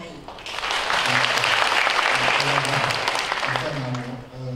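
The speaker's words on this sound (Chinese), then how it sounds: "好，我们掌声欢迎" Warm applause from a packed audience greets a guest speaker at a panel event in Taipei, dense clapping rising quickly and holding steady for about three seconds, with a voice faintly heard underneath before it fades.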